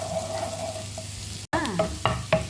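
Garlic frying in a pan for garlic butter shrimp, stirred as it browns: a steady close sizzle cut by a brief dropout, then louder scraping stir strokes over the crackle.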